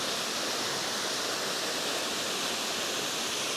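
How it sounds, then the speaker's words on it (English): A waterfall in a Southern California creek roars as a steady, dense rush of falling water, close and constant, with no other sounds standing out. "Gorgeous waterfall."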